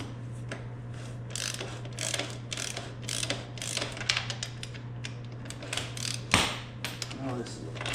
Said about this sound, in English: I'm using a torque wrench as a breaker bar.